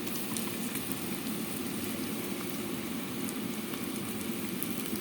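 Ground masala paste frying with onions in a pan for mushroom biryani, a steady, dense sizzle and crackle that holds evenly throughout with no talk.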